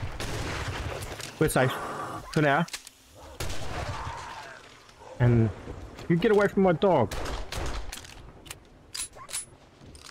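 Gunfire in the survival game 7 Days to Die crackles in short bursts among the game sounds, while a player talks over it.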